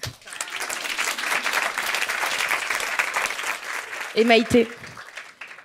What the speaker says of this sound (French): On applaudit Audrey.